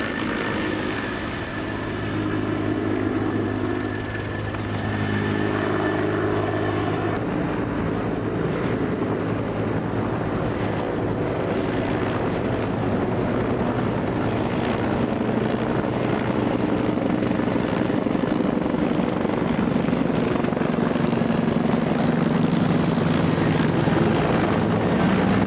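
Wildfire helicopters fly overhead in a steady, loud rotor and engine drone that lasts throughout, with shifting intensity as the choppers pass and no voices.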